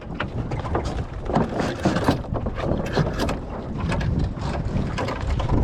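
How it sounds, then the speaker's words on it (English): Strong, gusty wind roars and buffets continuously on a sailing boat with building waves, water sloshing and rushing beneath it; loud and close throughout. "It is quite a grumpy wind, you know."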